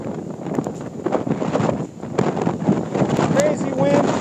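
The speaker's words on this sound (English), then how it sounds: "Crazy wind, crazy clouds." Strong gale wind roaring and buffeting the microphone on an icy, rocky Lake Erie shore during a gale warning, a continuous rough rush that swells and dips, with a voice talking faintly beneath it.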